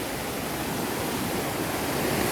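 The icy Beušnica river in Romania rushes steadily and close by, a dense unbroken roar with no pauses.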